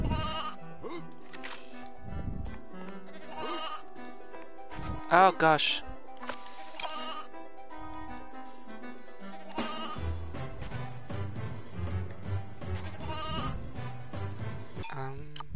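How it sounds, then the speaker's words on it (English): A lost sheep bleats in the Toy Story 2: Buzz Lightyear to the Rescue video game, with several clear bleats over game music and sound effects while a player talks and reacts. "I think I can hear the lost sheep."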